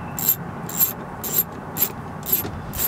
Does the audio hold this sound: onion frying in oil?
no